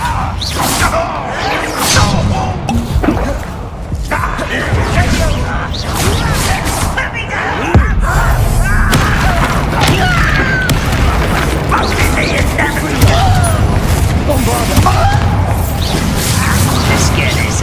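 Spell blasts and explosive impacts from Hogwarts Legacy gameplay on hard difficulty, a dense run of booms, crashes and whooshes layered over game music and effects, with a player's voice calling out spells throughout.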